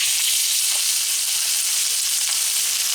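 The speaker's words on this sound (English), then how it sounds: "I got some oil heated up in a frying pan here on kind of medium-high heat. We're just going to saute these and brown these" Pieces of sous vide pork tenderloin sauté in hot oil in a frying pan over medium-high heat, giving a steady, close, continuous sizzle with no talking.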